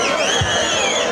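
Kabaddi fans at a Pudukkottai kabaddi tournament cheer, with sustained shrill whistles over a dense, steady crowd roar.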